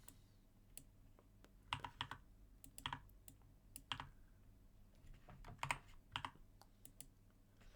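Typing on a computer keyboard at a desk during a Unity C# coding session: irregular bursts of crisp key clicks and clacks over a quiet hum, close to the microphone, with no voices.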